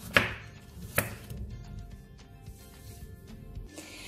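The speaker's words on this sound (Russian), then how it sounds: "теперь нам необходимо взять чеснок и нарезать небольшими кусочками" Quick, crisp knife chops of garlic on a cutting board, a couple of louder strikes followed by rapid lighter tapping, close up and without speech.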